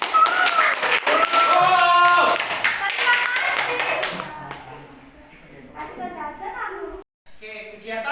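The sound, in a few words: class clapping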